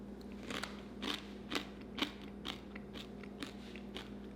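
Crisp crunching bites of fried quinoa repeat in a steady rhythm, close up and fairly quiet, each one a sharp crackly burst.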